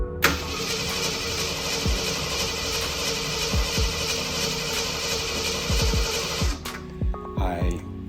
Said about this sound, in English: After installing the new starter and battery, I was able to turn it over,